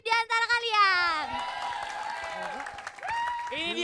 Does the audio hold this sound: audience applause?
yes